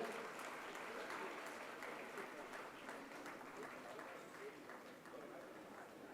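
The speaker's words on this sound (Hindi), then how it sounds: "आप लोग तालियां बजाते हुए विक्रम भाई का फिर से स्वागत।" Audience applause welcoming a guest at a religious question-and-answer gathering, a steady, fairly faint and distant patter of many hands clapping that continues evenly throughout.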